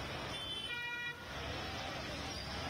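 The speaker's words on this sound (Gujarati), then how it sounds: "પાણીમાંથી પસાર થતી એમ્બ્યુલન્સ પણ ફૂટકાઈ હતી" An ambulance horn or siren sounds briefly while the vehicle drives through flood water on a waterlogged city street, with a steady wash of water and road noise continuing before and after.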